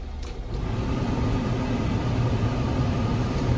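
A Honda-powered Mitsuoka Yuga car engine idles steadily with a continuous low rumble, close and even throughout.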